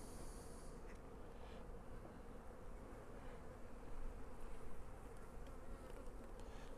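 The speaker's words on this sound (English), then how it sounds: "Now I'm going to shake some bees, a bunch of bees in here." A dense swarm of honeybees buzzing steadily at close range as frames are shaken into a hive box, a continuous hum that swells briefly near the middle, no voices.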